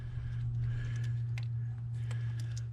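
A ratchet turns a bolt on a 2008 Chrysler Sebring during cam position sensor replacement, giving faint, sparse mechanical clicks over a steady low hum.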